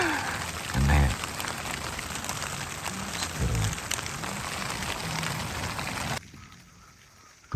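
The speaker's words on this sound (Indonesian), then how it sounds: "Sambil lihat city light tapi hujan." Rain pattering at night on a campsite high on Mount Kerinci, a steady close hiss of drops on a surface with a couple of heavier thuds, cutting away near the end.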